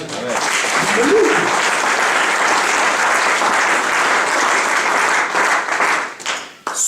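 A church congregation bursts into loud, sustained applause for the Lord, dense clapping mixed with cheering voices that holds steady before fading and breaking off at the end.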